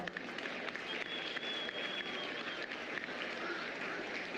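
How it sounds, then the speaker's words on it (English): Steady, dense applause from an audience at a 2025 swine show, honoring senior exhibitors, sustaining evenly from start to finish with no voices on top. "Let's give these seniors a big round of applause."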